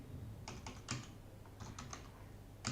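Typing code on a computer keyboard, with short bursts of close keystrokes, several quick clicks in clusters separated by brief pauses, fairly quiet and with no one talking.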